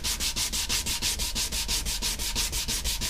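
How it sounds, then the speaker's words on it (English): A power sander works across the flat top of an antique oak dining table, making a close, loud rasping scrub that pulses in quick, even strokes about five times a second. "Now I'll be using the power sander for these flat bits"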